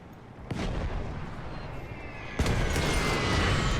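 Cannon fire booms in a World War I strategy game battle, two heavy blasts with long rumbling tails, loud and close.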